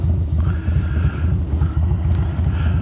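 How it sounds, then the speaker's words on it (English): Steady wind buffeting the microphone on a Harley Dyna motorcycle ride along the Blue Ridge Parkway, a dense low rumble mixed with engine drone, loud and continuous throughout. "It's windy up here today."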